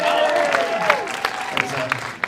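Audience applause at the 2020 GANYC Apple Awards ceremony, a moderate burst of clapping with a few sharper hand claps standing out, while a voice speaks over it.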